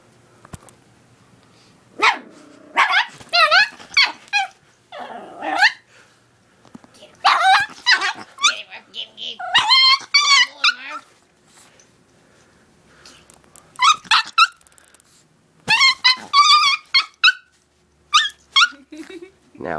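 A dog barks, yips and growls in repeated short excited bursts separated by quiet gaps, close and loud, with some whimpering squeaks mixed in.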